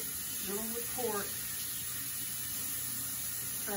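Tap water runs steadily over raw pork ribs being rinsed in a kitchen sink, a constant close hiss with a person's voice briefly heard over it.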